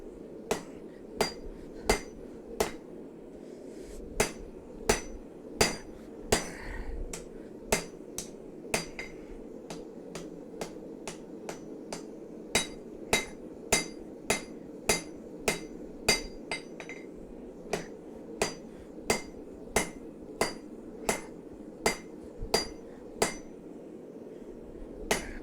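Hammer striking another hammer in a blade-making workshop, a long run of sharp metallic clinks repeating steadily at close range, some blows grouped quickly, over a low constant hum.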